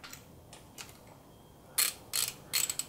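A ratchet with a 14mm socket tensions the timing belt on an R32 GTR engine: faint clicks at first, then three loud close bursts of rapid pawl clicking near the end.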